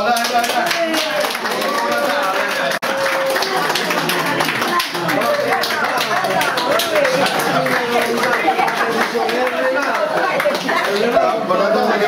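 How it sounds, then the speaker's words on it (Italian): Clapping and lively voices fill a nursing home as Santa Claus arrives, dense sustained applause mixed with talk and cheering throughout, fairly loud and close. "facciamo un applauso!"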